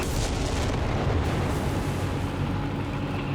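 Artillery fire in Company of Heroes 3 during a 2v2 match, a dense, loud, unbroken rumble of blasts and booms blending into one heavy barrage, with no speech.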